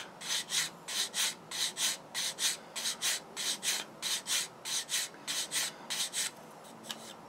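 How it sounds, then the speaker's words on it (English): Rapid rhythmic rasping of a sanding tool scrubbing away flash on a plastic model tank kit, about twenty short close strokes in an even back-and-forth pattern. "Sander."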